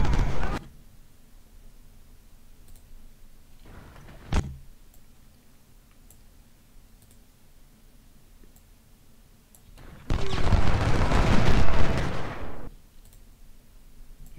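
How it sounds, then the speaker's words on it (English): Artillery and gunfire in Ultimate General: Civil War at the Battle of Gettysburg: a sharp blast at the start, a lone crack mid-way, then a dense two-second roar of massed firing, with quiet ambience between. "there's too much artillery here"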